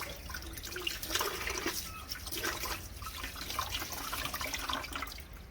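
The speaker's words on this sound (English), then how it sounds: "While waiting for the rice, I wash the meat I bought at the market." Running water splashes over raw meat from the market as it is washed by hand, a steady close rush of liquid with uneven spattering and no voices.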